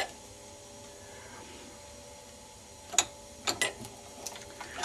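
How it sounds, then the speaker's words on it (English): A laptop charger is clamped in a bench vise: after quiet room tone, a few sharp close metallic clicks and creaks from the vise handle and jaws tightening. "clamp your charger in the bench vise"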